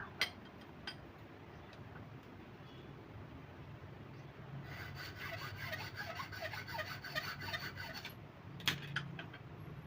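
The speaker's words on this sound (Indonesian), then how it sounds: "untuk tabung bagian dalam ini sangat mudah ya di pemotongan" Rhythmic rasping strokes of a saw cutting through the inner tube of a YSS motorcycle shock absorber, quiet and close, growing busier midway, with a sharp clank near the end.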